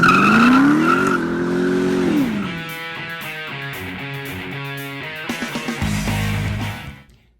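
A 1988 Porsche 928 S4 with 99,000 miles revving up through the gears, loud and close, the engine note rising and falling with shifts before settling into a lower rumble and cutting off at the end.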